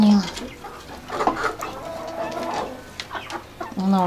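Backyard hens and roosters cluck and call close by in an uneven run of bursts, with a faint voice in the background.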